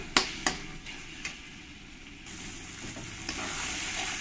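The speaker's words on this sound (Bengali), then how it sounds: "এই মশলাটাকে একটু সময় করে নিয়ে কষিয়ে নিতে হবে" Spice masala for chicken dopeaza stir-fried in a pan, a steady close sizzle broken by a few sharp spoon scrapes and knocks, with no talking.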